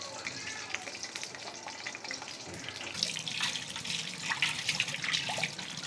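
Banana chip slices go into hot oil in a wok, giving a soft, continuous crackling and bubbling sizzle that grows slightly busier toward the end, heard alone and fairly quiet.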